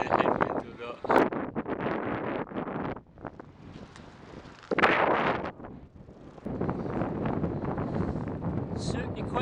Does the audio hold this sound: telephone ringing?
no